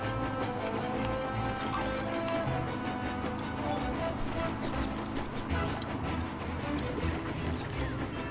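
Galloping horse hooves from the video game Puppeteer, a steady clip-clop rhythm running under busy game music and effects at a constant level throughout.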